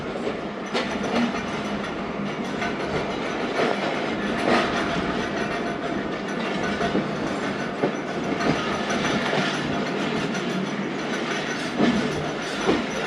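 The Zakariya Express passenger train runs on rails near Mando Dero station with a steady loud rumble and rattling of wheels and carriages, continuous throughout with faint clicking of the track joints.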